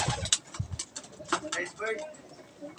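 A racing pigeon coos softly in a loft, low throaty calls coming in short bursts amid faint rustles, with someone talking over it.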